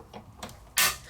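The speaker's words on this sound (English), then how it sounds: "if you're new to die cutting and that's the sound you hear" A die cutting machine gives a single heavy thump after two softer knocks, loud and close, with the room quiet around it.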